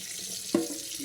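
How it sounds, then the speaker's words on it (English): Water running from a tap into a sink, a steady rushing hiss with a brief splashy burst midway, no talking. "Let me turn off this water so y'all can hear me a little better"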